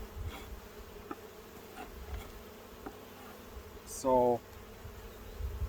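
Honey bees from a strong, healthy colony hum steadily around an open hive during an inspection, a low continuous drone with a brief louder buzz from one bee passing close, and a voice speaks one word.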